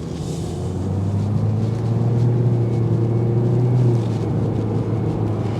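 Steady low road rumble fills the cabin of a 2024 Toyota Corolla hatchback on 16-inch wheels while driving, a continuous even drone with no talk over it.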